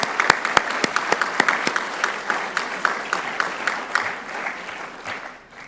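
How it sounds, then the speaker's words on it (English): Audience applause at an awards honors event, a steady crowd clapping with sharp individual claps standing out, sustained for several seconds and fading slightly toward the end. "So let's give them a round of applause."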